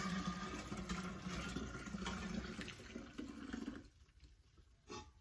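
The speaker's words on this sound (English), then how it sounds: "And now I'm pouring my sweet tea directly in it." Sweet tea poured into a glass jar over a kitchen sink for homemade kombucha, a steady splashing liquid stream that runs for several seconds and then stops, leaving a brief faint trickle.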